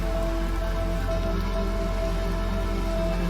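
Steady rain falls on Giant's Deep, the stormy ocean planet in the video game Outer Wilds, an even, unbroken hiss of drops with a low rumbling bed underneath and no voices.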